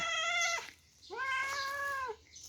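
A cat meows twice, close and clear, waiting for shredded fish snack treats; two drawn-out calls separated by a short pause, over a quiet low hum.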